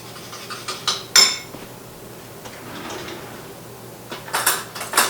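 A fork mixes granulated sugar with powdered sugar in a bowl, giving close scraping and light clinking strokes in uneven bursts, loudest near the start and the end, with no talking.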